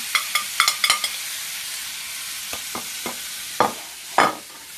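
Shrimp sizzle in a skillet with melted butter and garlic, a steady frying hiss broken by scattered pops and a few louder spatters toward the end.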